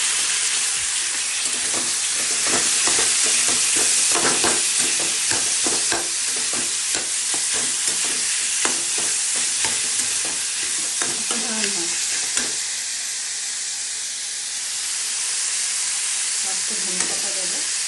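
Cauliflower florets for a Bengali cauliflower bhorta fry and sizzle in a pan, with steady stirring and scraping clatter running throughout at close range; no speech is heard.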